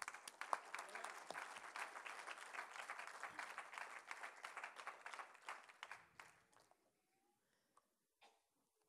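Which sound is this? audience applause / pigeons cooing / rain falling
audience applause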